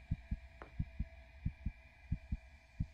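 A video game heartbeat effect in Crimson Snow thumps in a steady, quick rhythm of about ten beats in three seconds over a low constant hum, with no talk.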